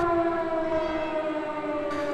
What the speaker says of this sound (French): Toutes les églises de la Principauté ont sonné le glas, suivies par les sirènes